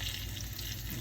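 Braised beef short ribs being stirred in a pot, a soft, steady sizzle and bubbling close by for about a second.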